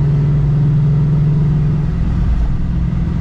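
Ford Mustang engine cruising in fourth gear, a steady low droning hum with a constant rumble, close and loud throughout with no voices.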